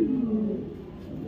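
A female racer pigeon gives a short, low throaty coo close by, a soft descending call that fades into quiet room noise.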